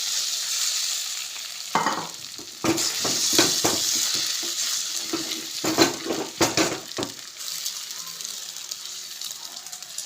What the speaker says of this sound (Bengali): ডিমটা ফাটানো হয়ে গেছে, দিয়ে দেবো কড়াইতে।